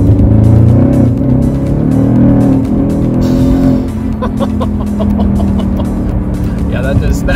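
A car with about 83,000 km on it revs hard and struggles for traction, engine roar loud and close, then easing as people talk over it.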